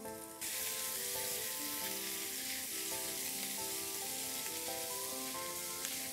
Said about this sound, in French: Et nous allons les faire rissoler.